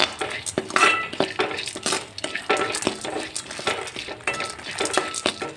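A spoon stirs ridge gourd peel and coconut sautéing in oil in a pan. The scraping and clinking come close up and keep going, with a soft sizzle underneath and no talking.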